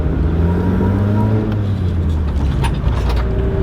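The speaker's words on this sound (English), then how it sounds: "So we're letting Bowden have a bit of a rip." A Nissan car engine revs hard during a drive, a loud continuous drone with rising and falling harmonic tones from the motor, heard close from inside the vehicle.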